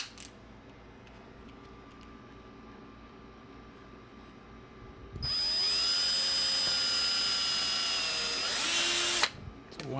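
After a quiet stretch, a small high-pitched drill with a 1/16 inch bit whirs loudly for about four seconds, its pitch rising, then cuts off with a brief clatter.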